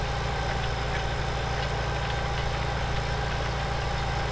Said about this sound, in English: With a tractor like Thomas is driving